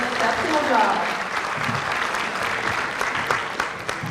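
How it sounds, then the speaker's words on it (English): An audience applauds the jazz band at a middle school banquet, sustained clapping from many people over a murmur of crowd voices, fairly loud and continuous throughout. "Let's give our jazz band a round of applause"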